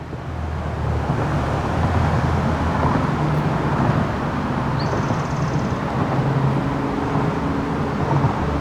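Cars speed past on Highway 17 in Santa Cruz County, heard from the roadside as a continuous loud roar of traffic with wind buffeting and no clear breaks between vehicles.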